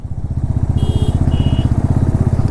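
A vehicle, most likely a motorbike, approaches on a foggy mountain road in Spiti Valley. Its engine throbs in a close, loud, rapid pulse that grows slightly stronger, with a couple of short high beeps partway through.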